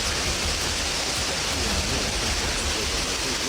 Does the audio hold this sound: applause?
no